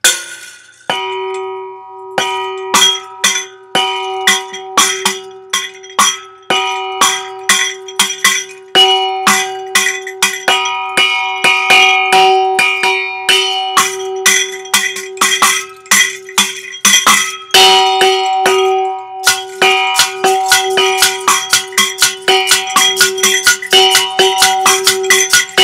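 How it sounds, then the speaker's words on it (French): Small bells fitted to a terrine and played as a homemade instrument ring and clink in quick, bright strikes, some sustaining tones, a busy rhythmic pattern up close with no talking. "des petites cloches que j'ai rajoutées"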